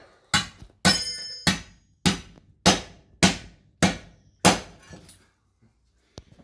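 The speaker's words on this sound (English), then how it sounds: "I like to do it just with the hammer" Eight loud, sharp metallic smashes of a hammer flattening copper pipe ring out at a steady rhythm, each with a short clattering decay, followed by one faint tap after a pause.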